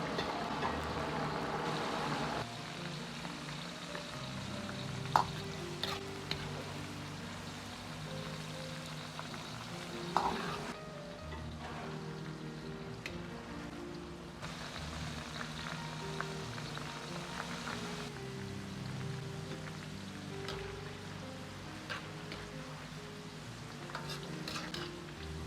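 Green beans deep-fry in hot oil over medium heat, a steady dense sizzle and crackle pushed around by a ladle, with occasional sharper clinks of the ladle against the wok over a constant bubbling bed of frying.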